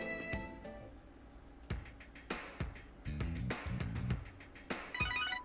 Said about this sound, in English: Your phone rings.